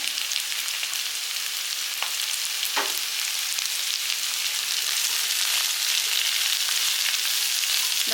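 Pieces of bottle gourd sauté in hot oil with a constant, close hiss and crackle, punctuated by a few sharp stirring scrapes.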